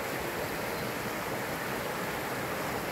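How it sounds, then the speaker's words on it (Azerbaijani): Spring water in the springs quarter of Minkənd village, Laçın, rushes and pours like a stream, making a dense, steady close-up wash of flowing water with no voices. "Bax, belə çay kimi axır. Və gəlir, tökülür."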